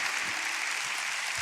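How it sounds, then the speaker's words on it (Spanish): Congregation applauding inside a church during a service, a dense, steady wash of clapping that fills the whole span without any talking over it. "Dale un aplauso a la gente que está en casa."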